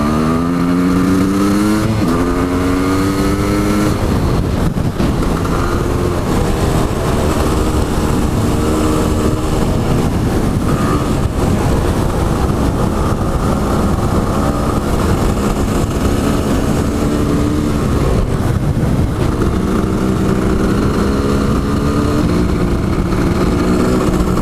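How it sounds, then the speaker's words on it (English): A KX500 two-stroke and a KX450F dirt bike drag race, engines screaming loudly through rising gear-by-gear revs, sustained and close with no talking. "when you have a KX500 and a KX450F, it seems like it might be fun to just line them up and drag race them"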